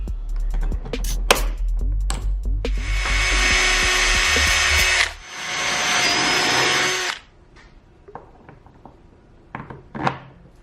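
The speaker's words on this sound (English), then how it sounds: "now that we have those first holes drilled, let's give it our first test fit" A power drill bores holes to mount a Xenon front airdam on a Datsun 280Z, opening with short revving bursts and then a loud sustained whine, followed by clicks and handling noise.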